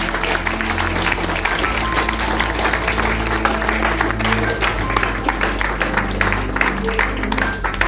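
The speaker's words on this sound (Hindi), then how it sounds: "एक ताली तो बनती है यूपी वालों को।" An audience at a motivational talk breaks into sustained applause, dense loud clapping from a large crowd continuing steadily throughout.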